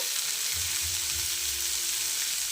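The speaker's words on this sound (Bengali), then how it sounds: "সামান্য হলুদ নেড়ে চেড়ে ভালো করে ভেজে নেব" Sliced bitter gourd with salt and turmeric fries in a pan, giving a steady close sizzle with soft stirring scrapes and low thumps underneath, no voices.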